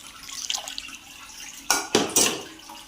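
Custard is stirred into sweet vermicelli (meethi sevaiyan) in a pan over low heat: soft wet scraping at first, then three louder clattering strokes of a utensil against the pan close by.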